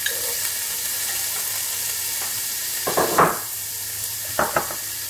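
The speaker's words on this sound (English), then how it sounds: "so that's coconut oil i'm putting the onion now" Chopped onion fries in hot coconut oil in a pan with a steady, close sizzle, broken by a few louder bursts of stirring and scraping.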